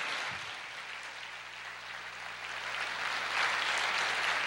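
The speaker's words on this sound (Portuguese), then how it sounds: "Aplauda o Senhor." A church congregation applauds the Lord during a sermon, a soft, distant wash of clapping that swells slightly toward the end over a low steady hum.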